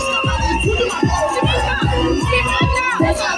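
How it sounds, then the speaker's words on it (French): A school audience at a year-end closing ceremony claps and cheers for the finalists, a loud dense wash of applause with children's shouts and crowd babble throughout. "je vais juste demander à tout le monde de réellement et sincèrement applaudir pour nos finalistes."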